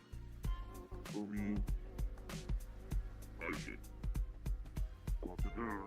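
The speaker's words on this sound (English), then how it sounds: "Hello, Murphy the cat. Do you have anything to say, Murphy?" Murphy the cat meows a few times amid busy game music and sound effects, the calls partly buried under the mix.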